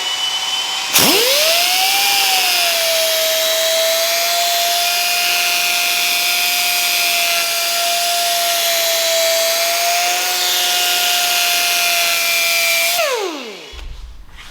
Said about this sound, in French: Fais tourner ma roue. Faut qu'elle tourne assez vite pareil.